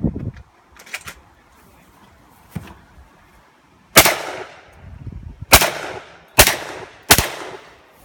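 Shotgun shots at a clay shooting session outdoors: four loud, sharp reports spaced a second or two apart, each with a short echoing tail, after a couple of fainter clicks, with little talk.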